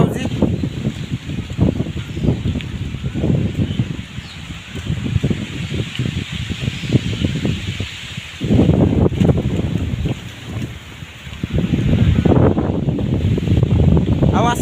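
Strong wind blowing across an open pond near a Shani temple in Angul district, Odisha, a loud rough rumble that gusts and buffets the microphone, swelling harder near the end, with someone talking over it.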